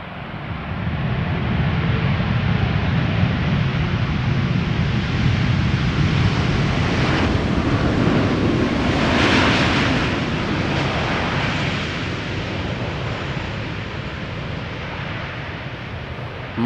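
A KLM Boeing 787-10 Dreamliner, three years old, touches down on return from LAX, a loud sustained broadband roar of engines and rushing air that swells mid-clip and slowly eases, with no talk.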